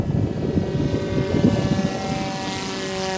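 A modified Peace drone in flight, its propellers giving a steady whirring drone with a constant harmonic whine that holds without pause, fairly close and even throughout, with no talking.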